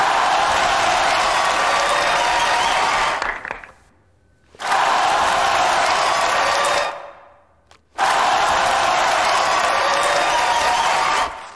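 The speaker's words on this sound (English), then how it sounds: "The audience loves SpongeBob, and they start chanting that they want more." Cartoon audience noise for SpongeBob: three loud, dense bursts of crowd cheering and chanting, each several seconds long, broken by two short near-silent gaps.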